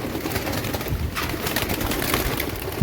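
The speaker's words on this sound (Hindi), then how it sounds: "और देखिए प्रैक्टिस है माशाल्लाह से बेहतरीन किस्म के कबूतरों की" Racing pigeons coo steadily during a training session, their soft, throaty calls layered close together over a busy, continuous background.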